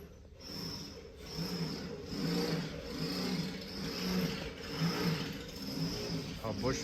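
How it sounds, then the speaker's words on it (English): A Case skid steer engine runs steadily nearby in a workshop, a mid-pitched rumble with gentle rhythmic surges, continuous throughout with no talking. "The engine."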